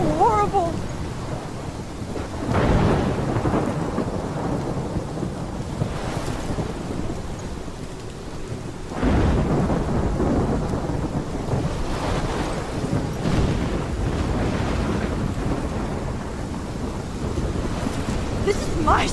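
Stormy weather in the video game Life is Strange: a steady wash of heavy rain and wind with low thunder rumbles swelling in at intervals, loud and continuous throughout.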